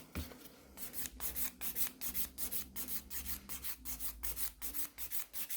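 A nail file rasps rhythmically across an acrylic nail during a rebalance, a steady run of quick close strokes, about a dozen scratchy passes in even succession with no talking.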